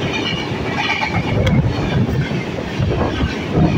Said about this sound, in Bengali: আমাদের ট্রেনটা এই মুহূর্তে ঢুকছে খানা জংশন